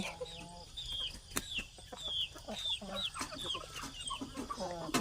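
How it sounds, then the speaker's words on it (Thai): Chickens cluck and squawk in a rural morning yard, a busy overlapping run of short calls, some close and some farther off, over faint background sounds. "นี่ค่ะไก่"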